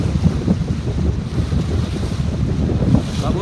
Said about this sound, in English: it's windier now